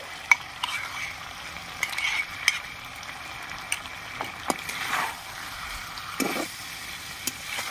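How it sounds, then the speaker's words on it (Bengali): Chicken being stir-fried in a pan with whisked sour curd, spatula scrapes and clinks against the pan over a faint, steady sizzle, with no talk. "টক দইটা দিয়ে সামান্য একটু কষিয়ে নেব।"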